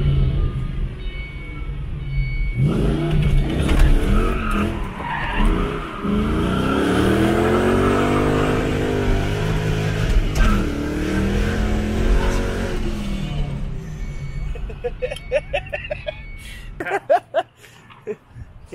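The Beer Can Mustang's engine roars loud and close on its first run since new FEAL suspension, climbing through hard revving pulls and sustained high-rpm howl, then dropping to choppy, crackling bursts near the end.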